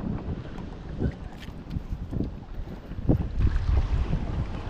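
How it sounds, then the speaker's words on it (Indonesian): Strong gusting wind at sea during kayak fishing off Malaysia in a 17-knot southerly, roaring and buffeting the microphone continuously with water sloshing beneath. "Okay guys, angin agak padu lah."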